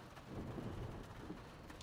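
Rain and rolling thunder inside the racing game Assetto Corsa Competizione at Watkins Glen, a steady wash of rainfall with a low rumble, fairly quiet and without voices.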